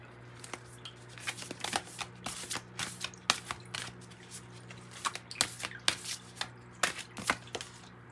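A tarot card deck being shuffled, with quick riffling bursts and soft slaps repeating steadily and close up over a faint low hum, and no voices.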